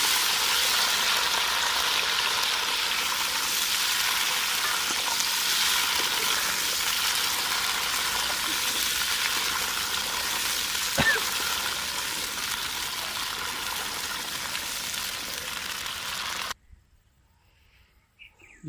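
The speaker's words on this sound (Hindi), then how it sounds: "इसको फ्राई करेंगे पहले अच्छी तरह" Amla fruit frying in mustard oil makes a steady, even sizzling hiss that carries on unbroken for a long stretch, then cuts off suddenly into near silence.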